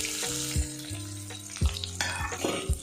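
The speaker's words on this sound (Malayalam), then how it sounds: "ഞാൻ എണ്ണ ചൂടാക്കാൻ വെച്ചിട്ടുണ്ടായിരുന്നു. അതിലേക്ക് 2 ശകലം കടുകിട" Mustard seeds sizzle and pop in hot oil for a masala dosa filling, a bright crackling hiss with small sharp spits, heard alongside a low tonal hum in the background.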